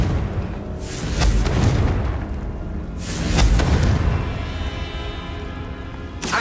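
A Confringo fire spell exploding in Hogwarts Legacy: three loud booming blasts spaced a couple of seconds apart, each with a rumbling tail that fades into the game's background.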